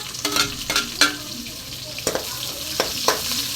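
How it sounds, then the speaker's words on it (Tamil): Chopped large onions sauté in a pan after mustard seeds, a soft sizzle under a series of sharp spoon scrapes and taps against the pan. "சேர்த்ததும் வணக்கி விட்டுறலாம் நல்லா ப்ரௌனிஷ் ஆகிற வரைக்கும்"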